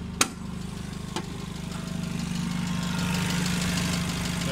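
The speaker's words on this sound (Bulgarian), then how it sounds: "Двигател." A 2015 Mitsubishi FG gas forklift, 1500 kg capacity with an automatic transmission and its original gas system, idles in a steady, moderately loud hum, with two brief knocks near the start and no voices.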